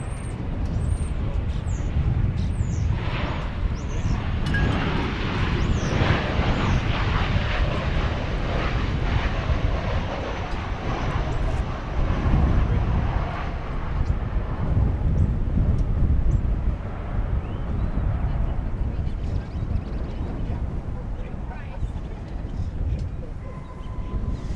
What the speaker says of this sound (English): So I guess this will be the flight from Phoenix.